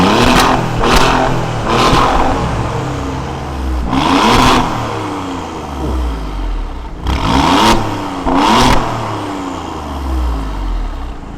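Alfa Romeo Giulia Quadrifoglio saloon engine blipped in a series of sharp, loud revs, some close together and others spaced apart, each surging and falling back to a rumbling idle.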